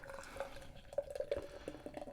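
Special-edition Vocation Brewery Roll With It DDH pale ale is poured from a can into a glass. It makes faint, close trickling and dripping with small bubbling splashes, irregular and quiet, with no talk over it.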